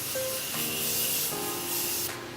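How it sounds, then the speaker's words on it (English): Makeup setting spray mists out in one steady, close hiss of about one and a half seconds, with faint tonal music underneath. "And then some setting spray and we're done."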